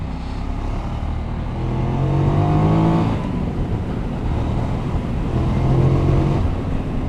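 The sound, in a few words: QJ Motor SRK900 motorcycle engine rumble while riding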